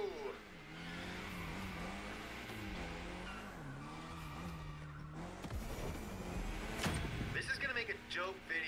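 A drifting car in the racing game The Crew Motorfest holds a wavering engine note with tire screech rising toward the end, heard steadily under ongoing talk.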